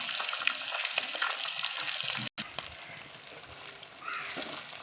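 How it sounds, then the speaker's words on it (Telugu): Fish fry in a pan of hot oil over a medium flame, giving a steady close sizzle and crackle with brief stirring clicks and a short break partway through. "ఇక మంచిగా వేగిపోయినాయండి."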